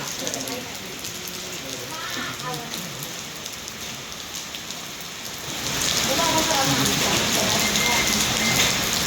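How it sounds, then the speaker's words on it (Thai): Steady rain falling outdoors on a road in Laos, a dense hiss that grows louder partway through, with someone speaking over it. "ฝนตกปล่อยๆ"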